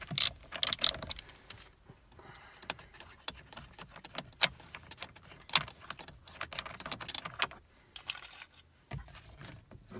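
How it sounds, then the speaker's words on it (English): Ratcheting clicks and metallic taps come from a bolt being undone on a VW MK4 steering wheel, with a loud burst of rapid clicks at the start, then scattered sharp ticks and light rattles close by, no speech. "We're gonna quickly undo this bolt here."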